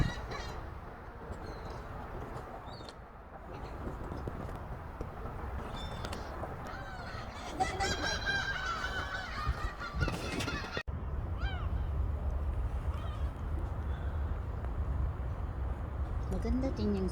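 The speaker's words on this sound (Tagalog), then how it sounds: "enjoy watching the seagulls" Seagulls at Daemyeonghang Port in Gimpo, Korea, give honking, squealing calls over a steady harbour ambience, with a brief busier burst of cries midway and people talking nearby.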